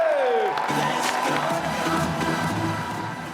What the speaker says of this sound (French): je vous demande un tonnerre d'applaudissements pour Monsieur Pierre Sorna et Etienne Van de